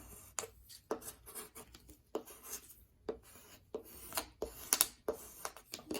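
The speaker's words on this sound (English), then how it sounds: "Take your squeegee or your bone folder and press it down really tightly" A bone folder pressing a paper card flat for a Dresden Plate quilt card, making repeated short, close scraping strokes in an uneven rhythm, each rasp separated by brief pauses; no one speaks.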